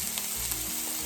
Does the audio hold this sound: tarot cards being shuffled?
no